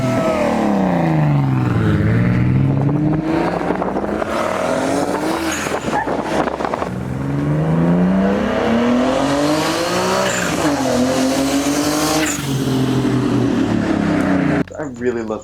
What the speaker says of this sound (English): we got some shots of the car, did some flybys